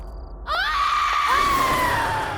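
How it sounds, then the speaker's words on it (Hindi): Person letting out a long, loud scream that rises sharply and then trails off slowly, close and piercing, with no talking. "ये किसकी चीख है?"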